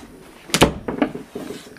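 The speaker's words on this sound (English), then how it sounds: "My door just opened by itself." A bedroom door swings open on its own indoors, giving a short wooden creak and knock followed by a couple of softer bumps and rattles, close by and fairly loud with no talking.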